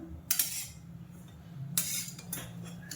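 Grated coconut is lightly roasted in a pan while a metal spoon stirs it, giving a few scattered scraping clinks against the pan over a faint low hum, close by with no talk.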